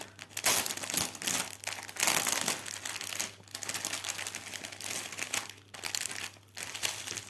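Crinkly plastic packaging pouch torn open along its side, with bursts of crumpling and ripping noises coming in uneven waves, close and fairly quiet.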